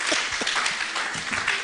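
A church congregation applauding during a service, a dense, steady wash of clapping filling the room for a short burst.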